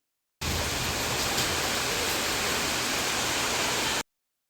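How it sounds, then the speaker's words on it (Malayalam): Heavy rain pours as a steady, dense, hiss-like roar that starts abruptly and holds at an even, loud level for about four seconds before cutting off. "ഇവിടെ ഭയങ്കര മഴയായിരുന്നു ഇന്ന്"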